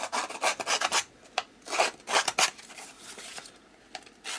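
Edges of a Halloween craft piece scuffed down by hand sanding, a close series of quick, rasping back-and-forth strokes in uneven bursts, with no talking.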